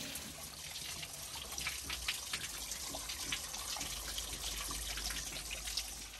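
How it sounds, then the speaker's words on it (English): Water from a garden hose flowing through a car radiator, a steady hissing trickle and splash that continues unbroken at moderate level. "So now I have the water hose going into the upper radiator hose."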